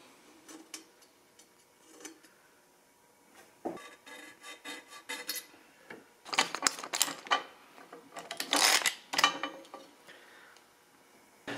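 A metal scribe scratches lines onto a steel HVAC bracket for a 1976 Mazda RX-5 Cosmo, with short faint scrapes and ticks that build into louder rasping strokes in clusters, close up with no talk.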